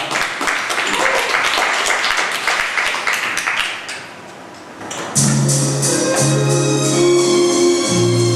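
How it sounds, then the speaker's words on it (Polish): A crowd claps and applauds in a dense burst that fades, followed by louder mixed noise with a low tone underneath. "Brawa!"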